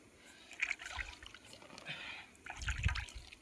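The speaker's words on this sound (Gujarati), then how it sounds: "હવે આપણે આમાં નાખીએ પાણીનો છંટકારો" Soft splashes and trickles of water being sprinkled onto manure in two short bursts, close by and fairly quiet, with a lull between them.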